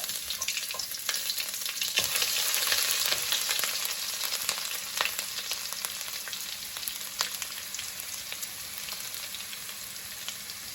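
Crushed ginger and garlic fry with popped mustard seeds in hot coconut oil, a steady close sizzle with occasional light clicks of stirring and no talking.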